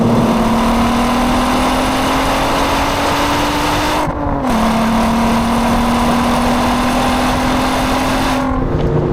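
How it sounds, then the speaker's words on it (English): Naturally aspirated V6 of a Volkswagen Golf R32 revs loud and close, a sustained rising engine note that drops off briefly midway, then climbs again before a final shift. "the performance and sound of a naturally aspirating V6 engine"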